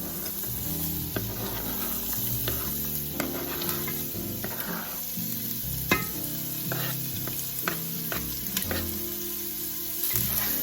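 Chopped onions sizzle and fry in a little sausage grease at the bottom of a pot over medium heat, a steady crackling hiss broken by scraping stirs and occasional clinks, close and alone with no talking.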